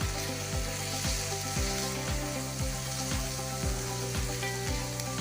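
Ajwain and spices frying in a pan for an aloo paratha filling, a steady soft sizzle with a regular low pulsing thump running underneath, no speech.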